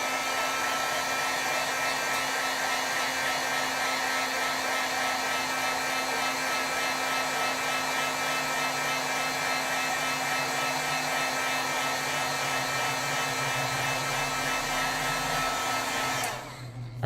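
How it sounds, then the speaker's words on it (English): An embossing heat tool blows steadily close by while heat-setting stamped artwork, a loud continuous whooshing drone with a faint whine that runs unbroken for many seconds before cutting off abruptly near the end. "Let's heat set this a little bit."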